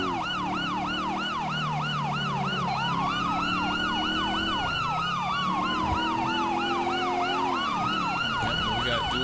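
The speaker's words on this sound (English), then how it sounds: "I always love the dual siren." Two police car sirens in Grand Theft Auto V sound together, one rapidly yelping while the other wails slowly up and down, loud and continuous over a running engine.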